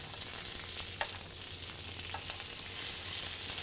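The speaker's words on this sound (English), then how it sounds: "Now we're going to add our butter and we're going to butter baste these." Ribeye steaks sizzle steadily in a pan while being butter basted, a bright continuous frying hiss close up with a couple of soft clicks and spatters, no voices.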